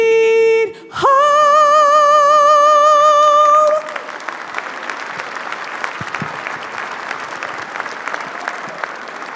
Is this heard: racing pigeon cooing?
no